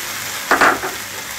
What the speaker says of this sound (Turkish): Bunu 10 dakika kadar güzelce soteledim.